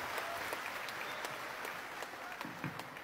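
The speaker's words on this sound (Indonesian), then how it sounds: "Tepuk tangan buat Aida." Applause from a gathered group in honor of a woman named Aida at a meeting on disability accessibility, moderately distant clapping with a few sharper individual claps standing out, steady and without voices.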